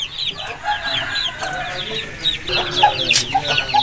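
Aseel chickens cluck nearby, a hen's low calls mixing with a steady scatter of high, thin chick peeps and chirps in a busy farmyard setting.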